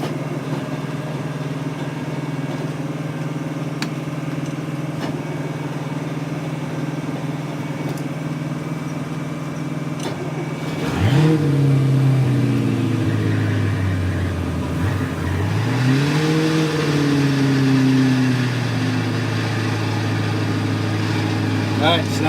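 Twin boat engines run together at a steady raised idle while warming up before casting off, a constant low drone throughout, with a second engine's note rising and settling partway through; no talk.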